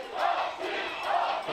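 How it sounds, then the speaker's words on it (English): Swiss rugby crowd at a Rugby Europe Trophy match between Switzerland and Czechia, a steady wash of cheering and shouting voices that swells in two waves, fairly loud and without clear individual speech. "when this Swiss crowd find their voice together, they really do make some noise"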